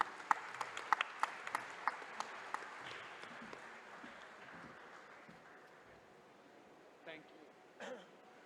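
Scattered, crisp hand claps from a conference audience at the World Congress of Accountants open the moment, then thin out and fade into a quiet room, with a few faint voices near the end.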